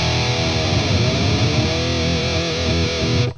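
Distorted electric guitar played through a Neural DSP Nameless Suite amp plugin, a dense high-gain tone with shifting chords sustained loud and steady for about three seconds, then cut off abruptly.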